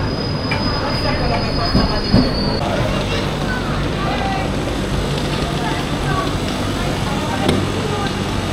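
A train rolls through a station on the way into Venice, wheels squealing with a steady loud rumble and a high whine early on, while people talk faintly in the background.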